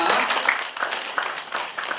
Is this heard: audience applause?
yes